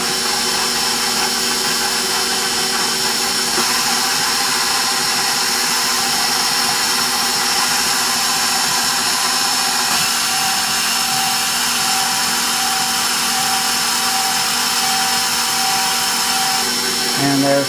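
An electric hand mixer beats eggs into pecan pie bar filling, giving a loud, continuous high whir that holds steady for the whole stretch.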